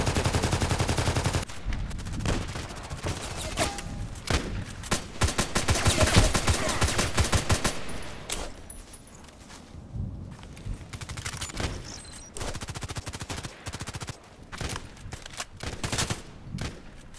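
Long-range rifle fire in a shooter video game: rapid strings of loud, crackling shots pour out almost continuously, ease briefly into quieter scattered reports, then pick up again in repeated bursts.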